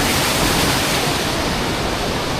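Sea water at a Camarines Sur beach in Bicol, a loud, close, continuous rush of surf noise with no clear breaks.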